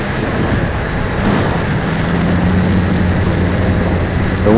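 A Cheerson CX20 quadcopter drone flies on a windy day, its motors giving a continuous whirring buzz under steady wind noise, with a rising tone near the end.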